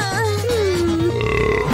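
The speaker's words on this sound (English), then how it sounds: "it's not a competition to see who can burp the loudest." One long, rumbling cartoon burp up close, its pitch sliding down before trailing off, loud and unbroken.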